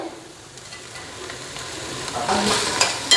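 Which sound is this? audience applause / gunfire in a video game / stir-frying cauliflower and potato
stir-frying cauliflower and potato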